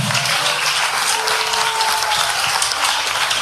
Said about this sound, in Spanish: Dale un aplauso al Padre de la Iglesia